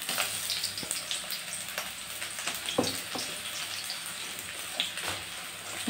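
Chopped onion fries in hot oil for a chicken kosha, giving a steady close sizzle broken by occasional sharper spits and stirring clatter.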